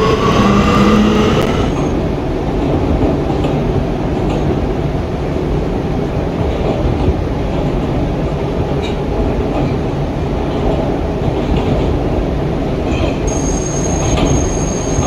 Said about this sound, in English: This is a Myrtle Avenue bound R local train.